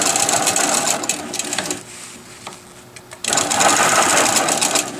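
Longarm quilting machine stitching a quilt border runs loud and steady with a fast mechanical whir, drops out briefly for about a second and a half, then starts again at full volume.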